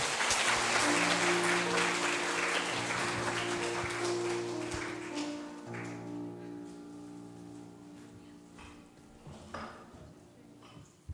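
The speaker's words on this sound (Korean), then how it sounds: "박수하겠습니다" A church congregation claps during a Sunday worship service in Gyeongju, the applause starting fairly full and fading over several seconds while sustained organ or keyboard tones ring underneath.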